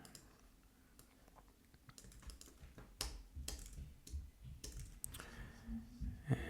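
Faint, scattered key clicks from a computer keyboard, typed in short uneven bursts while coding an iOS UIKit project, with a low room hum underneath.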